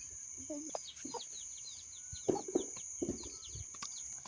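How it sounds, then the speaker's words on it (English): A mother hen clucks in short, soft bursts close by, with steady bird chirping and twittering in the background. "Our hen that has produced the chicks."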